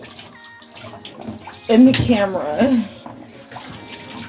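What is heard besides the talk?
water running off a bag being rinsed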